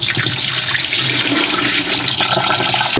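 Water poured onto a rock inside an aquarium tank meant for a pet octopus, a continuous loud splashing gush that runs steadily throughout with no talking.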